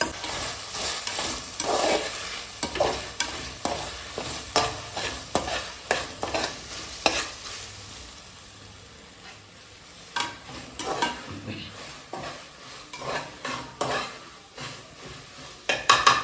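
Chopped onions browning in hot oil for paneer pulao, sizzling steadily while a spoon scrapes and stirs the pan in quick, repeated strokes, close and fairly loud with short clatters of the pan.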